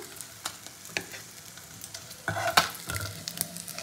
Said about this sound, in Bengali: এই দুটো মাছ ভাজা খাবে বলে এই দুটোকে কড়া করে ভেজে নিলাম